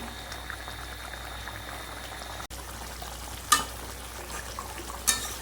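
Hilsa fish curry with mustard and poppy seed paste simmers in a pot, a close, steady bubbling hiss with two brief metallic taps near the end and no talking.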